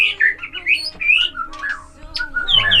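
A white-rumped shama sings in a breeding aviary, loud and close, with a run of clear varied whistles, warbles and sharp upward notes that follow one another with barely a pause.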